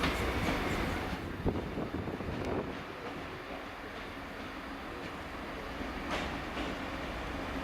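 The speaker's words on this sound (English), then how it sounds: "a Class 158 from Birmingham International Airport arrives on a train for Holyhead" A Class 158 diesel train pulls into Bangor station on a service for Holyhead, its steady rumble and rail noise filling the scene with wind buffeting the microphone.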